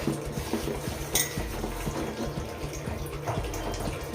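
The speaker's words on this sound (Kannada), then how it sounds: "ಹಿಟ್ಟು ಹಾಕಿದ್ಮೇಲೆ ನಾವು ಹಿಂಗೆ ತಿರುಗಿಸ್ಬೇಕು." Rice flour being stirred into water in a pot gives repeated scraping and knocking of a utensil against the pot, close and rhythmic, with no talk.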